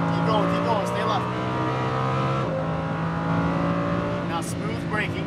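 A Lamborghini Huracan V10 screams through hot laps at Las Vegas Motor Speedway, its high engine note climbing, dipping sharply at a gear shift, then rising again, with a voice coaching the driver over the roar.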